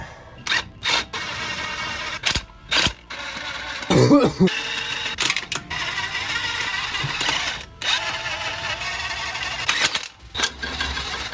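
A torque wrench ratchets while truck bolts are tightened during a Toyota Tundra rebuild, giving short bursts of close mechanical clicks and clunks with brief gaps between them.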